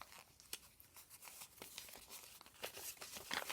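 Newsprint paper folded into a locking envelope is opened up, giving soft, close crinkling and tearing-like rustles in short bursts, faint and without speech.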